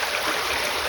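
A mountain stream flows in a steady, broad wash of rushing water, close and continuous with no voices over it.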